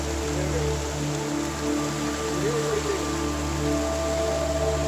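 Steady rain falls at a Himalayan meditation retreat, a continuous dense hiss of drops on surfaces, close and fairly loud, with a faint background hum and no talk.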